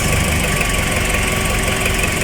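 A Toyota LiteAce engine idles with the air conditioning switched on, a steady, loud, close mechanical drone with a faint knocking pulse and no change in speed.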